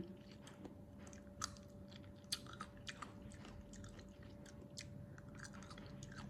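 Quiet, close chewing of a homemade Thai green mango salad: soft, irregular crunches and wet bites over a faint background hum, with no talking.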